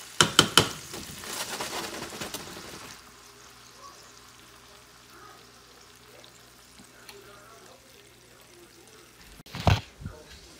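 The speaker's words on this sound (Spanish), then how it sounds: "Durante 2 minutos sofreímos las cabezas de calamar cortadas en trocitos" Chopped squid heads and scallops fry in hot olive oil for a seafood paella, opening with a loud crackling burst that settles into a quiet steady sizzle, then a sharp clatter near the end.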